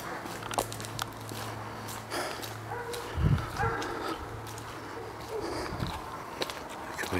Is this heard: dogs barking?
yes